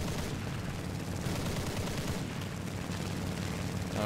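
Aircraft guns firing in a War Thunder air battle, with a Japanese B7A2 fighter-bomber engaging an A6M5 fighter; dense, continuous bursts of loud gunfire rattle without pause for the whole stretch.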